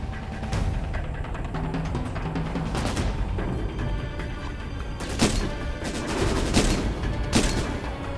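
Dense, continuous gunfire from the PSP game Syphon Filter: Dark Mirror, with rapid automatic bursts layered under several sharper, louder shots that stand out near the end.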